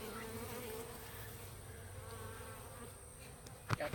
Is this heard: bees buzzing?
yes